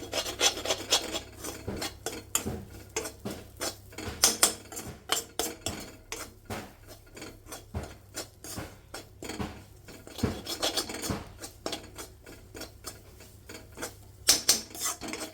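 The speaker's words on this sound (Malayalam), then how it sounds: "എന്നിട്ട് നന്നായിട്ടൊന്ന് ഇളക്കി കൊടുക്കട്ടോ." Coriander powder and spices stirred in a pan with a spoon, giving a steady run of close, dry scraping and rasping strokes in uneven rhythm, with no voices.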